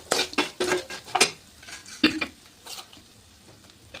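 Grated fresh coconut goes into a tempering with hing and turmeric for puliyogare, giving a series of spoon scrapes and clinks against the pan over a light intermittent sizzle, close by with no talking.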